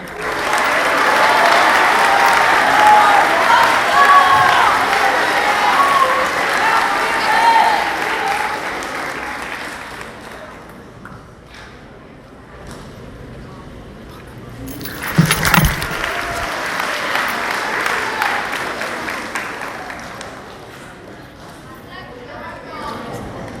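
An audience at a school awards ceremony for seventh graders applauds award recipients, a loud sustained round of clapping that fades after about ten seconds, followed by a brief clatter and scattered lighter clapping and murmuring.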